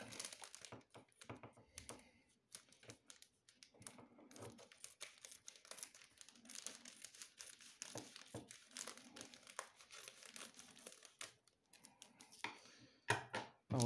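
A Panini Ligue 1 2024-25 football sticker starter pack, with an album and three packets, is opened: close, quiet, continuous crinkling and rustling of plastic and paper, with irregular sharp crackles and a louder tearing burst near the end.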